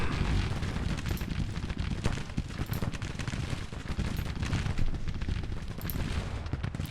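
Heavy massed rifle volleys and crackling musketry from Civil War troops in Grand Tactician, a constant rumbling barrage of overlapping shots with sharper cracks now and then, loud and without any talk.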